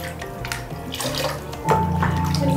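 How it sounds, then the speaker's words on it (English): Water pours steadily over hair during a Japanese scalp detox treatment, a close, continuous splashing rush that grows fuller and louder partway through. "This is like a waterfall on your hair."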